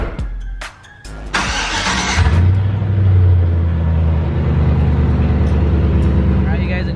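A truck engine starts up and settles into a steady idling rumble as it pulls away, loud and close, after a few sharp clicks.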